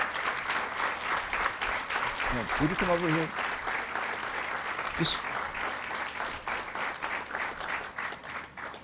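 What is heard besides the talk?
audience applause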